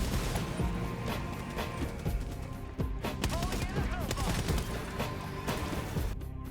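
Cluster bomb explosions in the video game Helldivers, a dense, continuous barrage of overlapping blasts and crashes rolling on without pause, loud and chaotic throughout.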